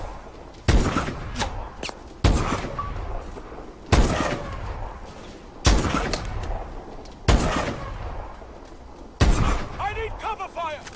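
Six heavy gunshot blasts from Call of Duty: Advanced Warfare land at roughly even intervals, each one loud and close with a short decaying tail, while voices shout between them.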